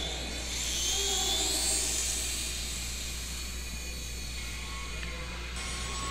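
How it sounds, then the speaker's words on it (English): Small servos on a Fokker Spin RC model airplane whir as they move the elevator and rudder, giving a steady, close mechanical buzz with faint hissing and a few brief pitch shifts, no voices. "Give a quick check of the controls, elevator, rudder, plenty of control throw for this model."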